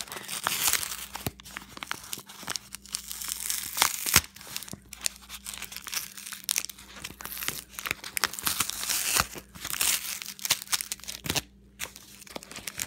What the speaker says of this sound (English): And I'm going to open it. There's lots of tape on this